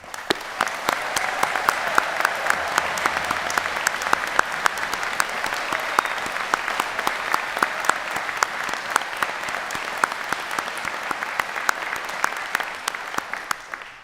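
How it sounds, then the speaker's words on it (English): Sustained applause from a large crowd at a university graduation ceremony in Coleraine, dense steady clapping that holds for a long stretch before tapering at the very end. "giving a final round of applause for all these fantastic graduates here"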